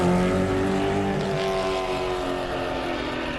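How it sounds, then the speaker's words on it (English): Powerful car engines roar steadily in the Mad Max video game, a loud, sustained low rumble with a drone that runs unbroken and slowly eases off, no talk over it. "the engines roar like the beasts you'd expect"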